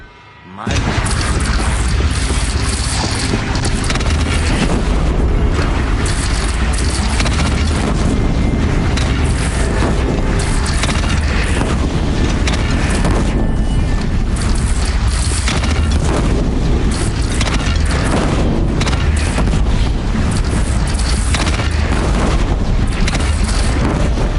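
Cannon fire and explosions in the Horizon video game boom continuously in a dense, loud battle din that runs the whole length without letup.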